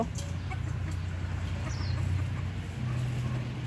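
Chickens, including white laying hens in a bamboo coop, cluck softly over a steady low hum, with a faint higher bird call briefly standing out.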